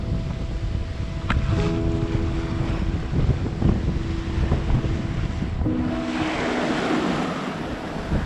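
A sailboat under sail, out in the open sea by the Gulf Stream, moves through waves in steady wind, with constant rushing water and wind noise buffeting the microphone, plus faint tonal creaks, with no talking.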